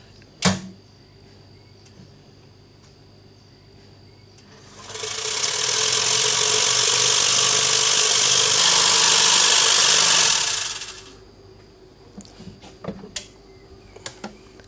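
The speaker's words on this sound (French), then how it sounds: "on veut broyer les cellules du tissu végétal de manière mécanique." A lab grinding machine mechanically breaks up plant tissue cells, starting abruptly with a loud, steady broadband whir that holds for about six seconds and then stops, framed by a sharp click before and scattered small clicks after.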